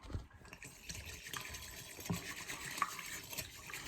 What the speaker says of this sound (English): we will blend this with a small whisk